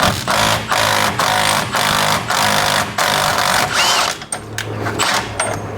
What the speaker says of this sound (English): Now I'm going to try the impact gun first.